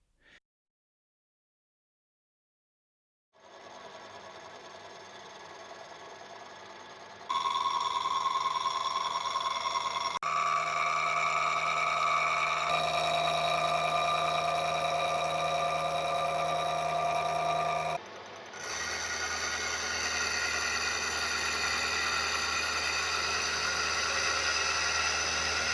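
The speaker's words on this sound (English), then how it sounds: "let's go to the milling machine and take some material off the top side." A milling machine cuts material off the top side of a crude aluminium part on an old repaired machine: a steady, loud tonal whine with layered harmonics that shifts pitch as the cut changes, continuous and alone with no talking.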